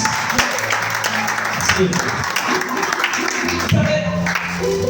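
A church congregation applauds and cheers during a French-language sermon, a steady wash of clapping running under and between a preacher's voice for several seconds.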